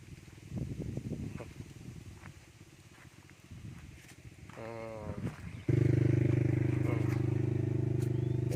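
A four-cylinder diesel farm vehicle engine clatters and idles, then revs up loudly into a steady, close drone with faint scraping sounds earlier.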